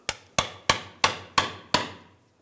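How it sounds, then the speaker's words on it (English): Six sharp metallic hammer taps on a pry bar wedged against the rear differential cover of a 2011-2018 Ram 1500, struck at an even steady rhythm, each ringing briefly and decaying, close and loud with no talking. "using a pry bar, I'm just going to give it a tap with a hammer."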